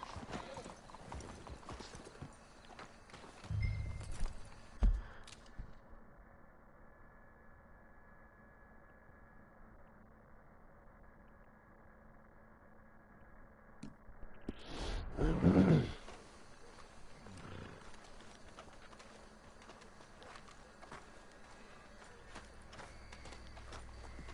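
Horse hooves clip-clopping in Red Dead Redemption on PS4, steady and fairly soft under game ambience, with two louder bursts of hoofbeats and movement partway through.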